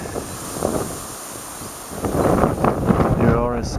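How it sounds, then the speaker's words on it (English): Strong wind buffets and rumbles across an outdoor microphone on a footpath in Cardin Mill Valley, Church Stretton, gusting louder midway, with faint voices underneath. "It's getting windy."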